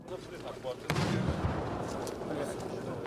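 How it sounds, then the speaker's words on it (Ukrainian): A heavy boom of artillery fire, including a German Panzerhaubitze, bursts out of a rumbling background near Bakhmut, followed by a sustained low roar; faint voices are present. "Просто зараз чергову атаку відбиває наша артилерія"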